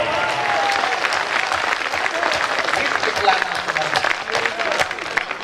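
Sustained audience applause at a Hindi poetry gathering (kavi sammelan) in Waidhan, Singrauli district, Madhya Pradesh, a dense steady roar of many hands with a faint voice beneath, lasting throughout.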